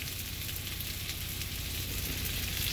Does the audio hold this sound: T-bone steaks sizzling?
yes